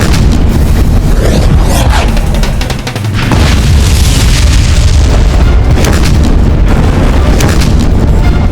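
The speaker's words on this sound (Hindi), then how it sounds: "मुगलों ने पुनः तोप के गोले दागना आरंभ कर दिया है।" Cannon fire from Mughal artillery in a dramatized battle scene, a continuous loud roar of booming blasts and rumbling with no clear gaps, dense and close throughout.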